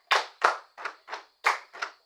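A seventh-grade class claps in a counted classroom routine: six sharp, loud hand claps in quick, evenly spaced pairs, with no voices over them.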